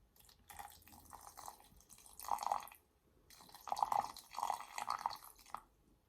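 Damask rose water is poured into a container while making a body lotion, producing faint, close trickling and dripping in two runs separated by a short pause.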